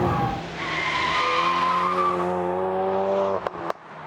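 A Ford Focus RS in drift mode power-slides sideways, its tires letting out a long, loud, wavering squeal over the engine's steady drone before a couple of short bumps near the end.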